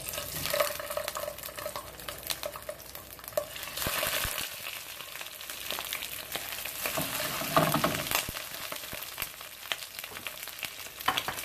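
Sausages fry in a hot pan with olive oil, giving a steady, moderately loud sizzle broken by occasional stirring and pan knocks, with no talking.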